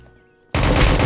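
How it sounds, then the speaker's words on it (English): Dense burst of gunfire from many weapons in the shooter game Project Delta at a military airfield, starting abruptly after near silence and staying loud and continuous to the end. "There's people shooting everywhere, bro."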